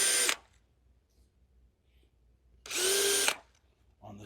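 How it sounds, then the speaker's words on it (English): Two short bursts of a power drill whirring as it pre-drills holes in a wood board, the first brief and the second longer, each starting and stopping abruptly with quiet between. "I'm going to be pre-drilling 2 holes"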